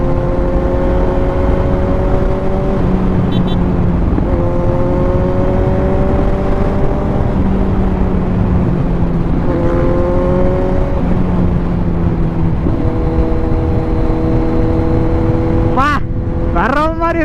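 A 2024 Kawasaki Z900 motorcycle engine runs loud and close, its pitch climbing in repeated steps as it revs through the gears. A short, sharp burst of noise comes near the end.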